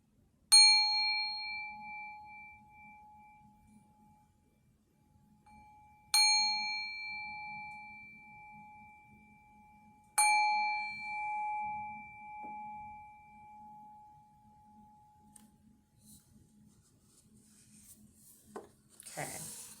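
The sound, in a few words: singing bowl being rung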